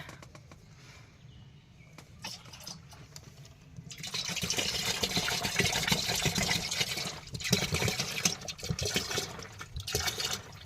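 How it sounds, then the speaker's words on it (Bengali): Cooking oil poured out on a boat on the Matla River in the Sundarbans, a soft liquid trickle that swells into a steady gushing pour after a quiet start, fairly close and alone. "তেলটা ঢেলে নিয়ে"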